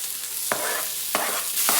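Garlic, onion and chili sizzle steadily in oil in a pan, with three sharp stirring scrapes against the pan cutting through the frying hiss, close and fairly quiet.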